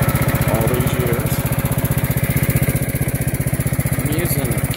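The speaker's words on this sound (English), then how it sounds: "I'm using exhaust from the lawn tractor. By the way, that's a 1981 Gravely I've had all these years." A 1981 Gravely lawn tractor engine runs close by, its rapid, regular exhaust pulses thudding in a loud, steady chug that barely changes pace.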